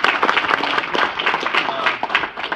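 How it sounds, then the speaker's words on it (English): Audience at a parlor magic show applauding a performer, dense and lively clapping that stays loud and close for the whole stretch, with a little crowd noise mixed in. "Give Christian a round of applause"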